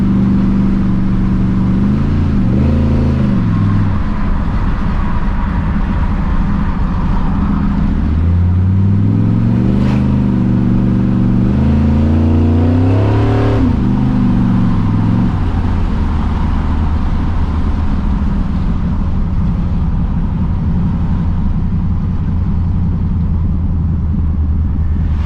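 A 1979 Ford F100 with a 408 stroker engine and stall converter driving, its engine rumbling loud and close, rising and falling in pitch as the throttle is worked, then settling into a steady roar.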